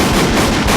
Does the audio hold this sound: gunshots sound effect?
yes